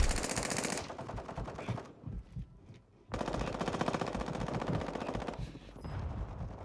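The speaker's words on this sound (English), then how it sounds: "Taking effective fire." Machine gun fire in the video game Call of Duty, Resurgence mode, in loud rapid bursts that cut off briefly in the middle before resuming and tailing into scattered shots.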